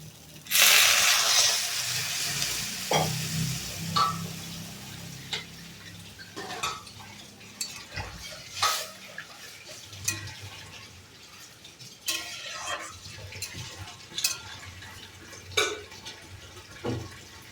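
Water poured into a pan of egg curry on the stove, a bright rushing splash at the start followed by scattered clinks of a spoon against the pan and quiet bubbling, close and fairly soft.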